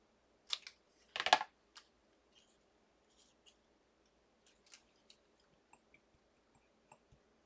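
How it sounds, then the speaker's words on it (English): Scissors cut strips of paper close up at a craft table, with two louder snips at the start followed by a run of small, faint, irregular clicks and snips. "I'm just cutting strips of paper."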